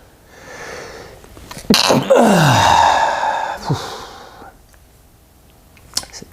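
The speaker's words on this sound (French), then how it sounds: "Et Dieu me fait éternuer." A single strained sneeze bursts out after a build-up of breathy gasps, loud and close, followed by a quieter sniff and a short breath near the end.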